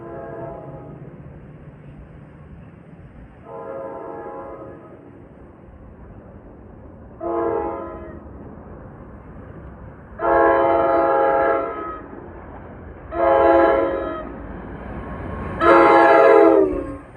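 An NJ Transit deadhead train from Middletown to Hoboken sounds its horn at a grade crossing in six separate blasts of varying length, the later ones louder, over a low rumble of the approaching train.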